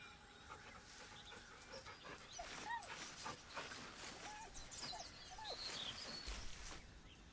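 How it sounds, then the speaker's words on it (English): A nervous dog whimpers softly at a distance, with faint high whines scattered over a constant hissy background, and no talk. "The dog whimpers nervously, as if to urge you on."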